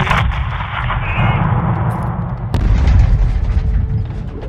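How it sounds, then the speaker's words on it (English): Gunfire in the Call of Duty Modern Warfare II campaign: loud, dense rumbling bursts of shots and heavy booms that roll on continuously, with a sharp crack midway followed by sustained firing. "Back on the trigger. We're burning through rounds."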